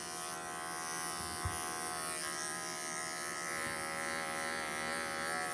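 Electric pet clippers buzz steadily at close range while trimming fur around a dog's private area, a constant hum with no voices.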